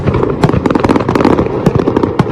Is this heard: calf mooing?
no